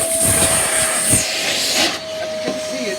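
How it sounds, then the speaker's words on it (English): A Karcher WD 3 P wet dry vacuum cleaner sucks up spilled water, giving a steady loud close hiss and whine with gurgling slurps as the nozzle draws in liquid. "Let's vacuum up all this water."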